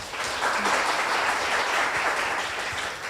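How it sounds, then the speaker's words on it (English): Sustained audience applause for business and technical mentors at a public pitch presentation event, a dense even wash of many hands clapping throughout at steady loudness, with no talking over it. "I want you guys to give applause for our mentor, please"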